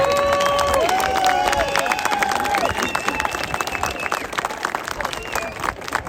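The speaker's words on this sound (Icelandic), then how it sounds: "Við klappum fyrir því." A crowd at a street protest breaks into sustained clapping and cheering, with wailing siren tones sliding in and out above the dense applause and the noise of the gathering.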